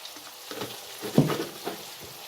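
Curry leaves and chicken frying in a pan, crackling and popping in irregular bursts, with one louder spattering flare midway and softer stirring scrapes around it.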